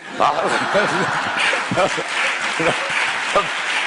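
Audience applause fills a lecture hall during a conference talk in defense of the Andalusian dialect: steady, dense clapping throughout, with voices and laughter breaking through over it.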